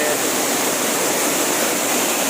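A waterfall in eastern Thailand pours with a dense, unbroken roar of rushing water, loud and close, with no voices over it.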